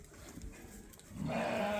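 A sheep on a sheep farm gives a single short, faint bleat, with quiet farmyard background before it.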